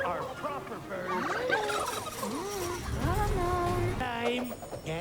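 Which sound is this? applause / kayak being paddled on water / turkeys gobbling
turkeys gobbling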